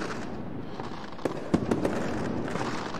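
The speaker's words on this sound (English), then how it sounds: "You're going to hear fireworks going off from a pretty good distance." Faint, distant fireworks in an Unreal Engine 4 game map popping a few times over a soft ambient rumble, the bursts brief and muffled by distance.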